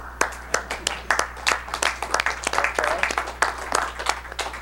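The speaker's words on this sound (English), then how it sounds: "I need to ask you all to applaud." An audience in a room applauds together for several seconds, a dense, steady patter of many hands clapping with sharper individual claps popping out, with no talking over it.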